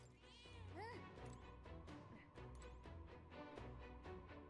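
A cat meows in the video game Metaphor: ReFantazio, a couple of short rising meows near the start over a busy game soundtrack, faint in the mix.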